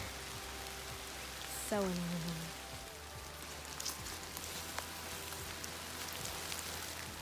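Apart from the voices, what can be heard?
rain falling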